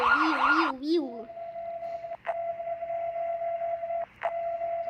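An emergency alert system alarm tone opens with a brief warbling, siren-like wail, then settles into a steady, loud electronic beep that cuts out briefly twice before continuing, with no talking.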